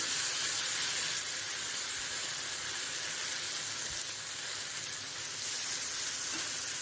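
Sardine fish fry in a pan with a continuous, even sizzle, a broad hiss that stays at a steady level from start to finish.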